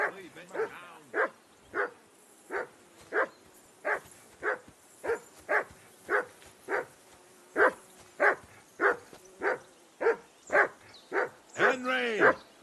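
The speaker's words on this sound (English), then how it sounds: "Whistle at that mutt of yours to stop barking." Hound in the medieval game Kingdom Come Deliverance II barks about twenty times in a steady, evenly spaced rhythm, close and clear, ending in a louder, rougher yelp.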